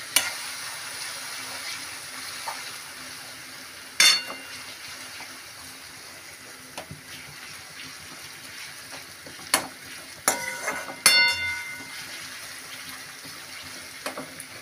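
Shredded potatoes, fried once already, go back into hot oil and sizzle steadily at low volume, with scattered clinks and scrapes of stirring, no talking.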